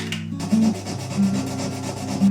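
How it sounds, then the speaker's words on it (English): Sandpaper rubs over the fretboard inlays of a 1970s Ibanez Concord acoustic guitar in steady back-and-forth strokes, a close, continuous rasping with a gentle repeating swell. "So I'm going to sand them down just a little bit."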